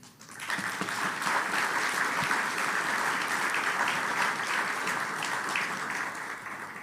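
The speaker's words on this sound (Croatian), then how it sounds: "dajte da sa jednim pljeskom zahvalimo se svima onima koji su dali značajan doprinos" Sustained applause from an audience at the opening ceremony of the MIPRO 2025 ICT conference, a dense steady patter of clapping that swells in quickly and holds for several seconds.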